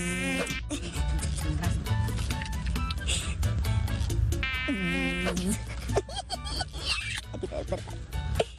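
A mosquito's whine, staged as a sound effect in a Spanish-language TV comedy sketch, buzzes steadily through the scene while people talk and shout over it.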